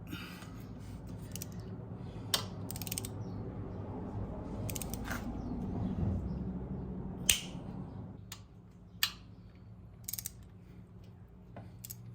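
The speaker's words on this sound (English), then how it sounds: "I've got my torque wrench set on 115" A torque wrench tightens a bolt on a Harley-Davidson engine during cam chain tensioner work, giving a series of sharp ratcheting clicks and snaps at uneven intervals over low background hum, close by with no talk.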